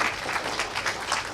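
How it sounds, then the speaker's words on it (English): Audience applause at the Chemcon 2022 conference, a brief burst of dense, sustained clapping from a hall crowd. "So please put hands together and big round of applause for Mr."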